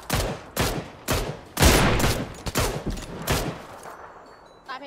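PUBG video game gunfire: repeated sharp rifle shots in bursts, fairly close, some from a hillside, with a quiet pause near the end.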